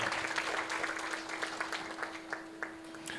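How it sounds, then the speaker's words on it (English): A closing-ceremony audience gives a scattered, fairly faint round of applause, individual claps standing out in an irregular patter over a steady background hum. "I would like all of us to applaud them for their outstanding work that they have accomplished in so short a time."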